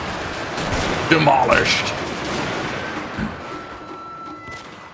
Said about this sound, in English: As they are about ready to take the brunt of all this musket fire.